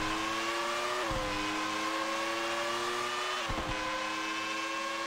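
A Formula 1 car engine in the PS1 racing game F1 World Grand Prix 2000 sings at a high, steady whine, dipping twice as it shifts gears and then climbing again, loud and continuous with no talk.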